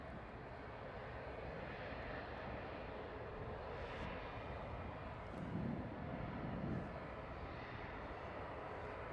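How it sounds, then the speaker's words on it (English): An Airbus A220 bound for Zurich lines up for departure at Manchester Airport, its engines a faint, steady distant whine with soft rumble and a slight swell midway. "A220 about to line up."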